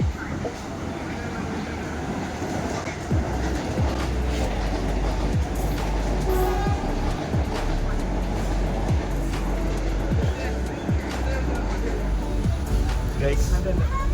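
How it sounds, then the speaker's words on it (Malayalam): A Vande Bharat express train rumbles past close by, its wheels clacking rhythmically over the rails while people talk over the steady roar. "വന്ദേ ഭാരത് പോകുന്നു, വന്ദേ ഭാരത്."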